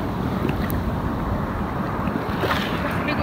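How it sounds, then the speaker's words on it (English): Big ocean waves surge and wash continuously, a steady loud roar of surf mixed with wind buffeting the microphone, with no voices. "we got some really big waves"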